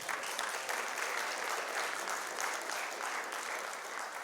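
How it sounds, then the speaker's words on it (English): A conference audience applauds steadily, a dense wash of many hands clapping at an even level the whole time. "please give a round of applause to Bronia."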